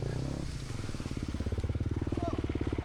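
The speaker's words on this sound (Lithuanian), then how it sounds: "Imam už motociklo ir važiuojam." An enduro motorcycle at a Lithuanian championship race idles with a close, steady low thumping beat that firms up into a regular chug, while a voice talks over it at the start.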